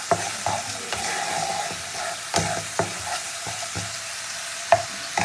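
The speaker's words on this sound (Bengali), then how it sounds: "টমেটোটা আমার খুব সুন্দর করে তেলের মধ্যে কষানো হয়ে গেছে" Tomato sautés in oil in a pan for a folui fish curry, a soft constant sizzle broken by several sharp spatula taps and scrapes at irregular intervals, without speech.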